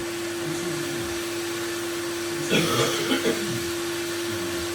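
A hot air rework station set to about 340 degrees blows steadily while softening plastic on an Acer Aspire 5552 laptop board: an even, close airflow hiss with a faint constant hum, and a brief rustle partway through.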